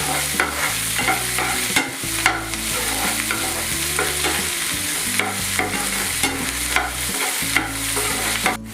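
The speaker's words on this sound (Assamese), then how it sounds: "পিঁয়াজৰ লগত এই গোটেই বস্তুখিনি ধুনীয়াকৈ ভাজি পেলাম" Steady loud sizzling of onions frying in a pan, with repeated scraping and stirring strokes throughout; no voices.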